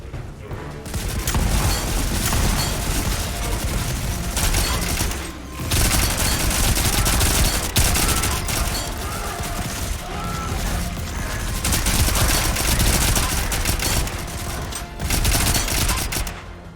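Sustained bursts of SMG fire in the video game Volcanoids rattle loudly and almost continuously over several seconds, with brief pauses between long automatic volleys.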